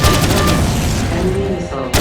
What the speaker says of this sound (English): Enemy missile incoming.